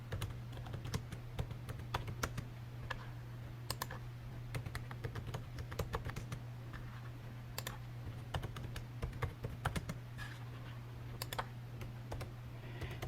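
Rapid keystrokes on a computer keyboard while entering a business address, an irregular stream of close clicks over a steady low electrical hum, with no talking.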